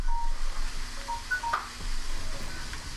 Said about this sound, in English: There the phone goes.